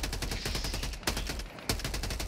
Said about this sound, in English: I gotta wait for the machine guns